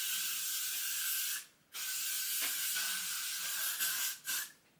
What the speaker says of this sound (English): And then now get your hairspray.